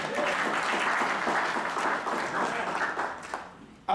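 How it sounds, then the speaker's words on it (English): A church congregation breaks into steady applause, dense continuous clapping from many hands filling the room for several seconds before fading toward the end. "let's clap for them"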